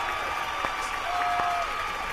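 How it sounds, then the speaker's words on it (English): Moderate applause rises from an audience celebrating the winner of a calypso competition, a steady patter of clapping that runs the whole way through with a few sharper individual claps standing out. "let's give our winner a little round of applause"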